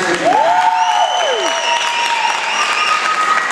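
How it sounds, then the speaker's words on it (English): Audience at a singing competition round claps for a 12-year-old singer, a steady bed of applause carrying on beneath tonal, held notes sliding in pitch. "we will clap for 12-year-old Yasmeen Najmeddine"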